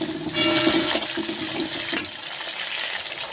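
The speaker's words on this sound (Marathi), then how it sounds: "कोबी छान स्वच्छ धुवून घ्यायचा, कोबी घालून घ्यायचा." Cabbage is rinsed under running water for a Marathi-style pea pulao, a close, steady gush and splash of water lasting the whole moment, with no voices.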